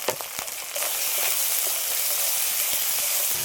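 Masala paste with turmeric, salt and whole tomato pieces sizzles steadily in a hot pan for a fish curry, a continuous close frying hiss that swells after a brief softer start, with no talk.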